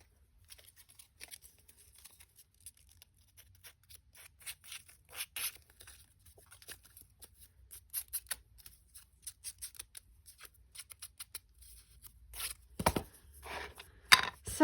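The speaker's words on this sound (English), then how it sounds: "Scissors." Scissors snip through paper at a desk in a quiet room, a long run of short, crisp cuts in an uneven rhythm, close and fairly soft, growing louder and denser near the end, with no voices.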